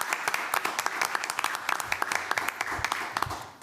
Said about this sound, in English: How about a round of applause for our seniors?